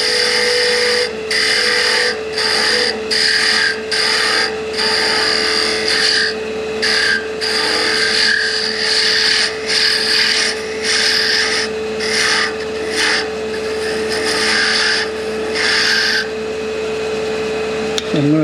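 A Christmas sphere ornament spins on a wood lathe while a gouge forms its small point, producing repeated bursts of loud rasping scrape over a steady motor hum, with brief pauses between cuts.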